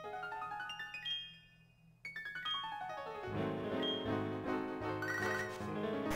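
Phone ringing in the Pokémon HeartGold video game with a call from Mother, a bright electronic ringtone of repeated chiming tones that pauses briefly, then continues as a fuller melodic jingle.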